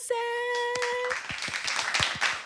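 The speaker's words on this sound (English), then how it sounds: "Y'all give a round of applause to Tollisha Joseph." An audience claps for a guest introduced as a professional network marketer, scattered hand claps rising after a sustained tonal note at the start, fairly close and continuing to the end.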